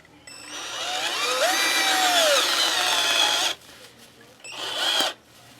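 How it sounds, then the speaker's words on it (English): A power drill whirs loudly for a few seconds, its pitch wavering under load, then stops and briefly spins up again before cutting off. "And you turn your drill on"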